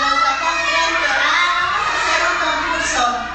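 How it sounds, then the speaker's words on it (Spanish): A group of children shouts together loudly at a kids' event, a dense, sustained crowd roar lasting the whole moment with no pause. "Vamos a ver quién de las dos partes grita más fuerte, si los niños o los papás."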